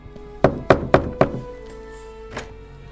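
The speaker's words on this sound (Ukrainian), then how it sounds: "Анджела стукала у двері сусідки тані." Four sharp knocks on a neighbour's door in quick, even succession, close and loud, followed by a quieter single rap a moment later.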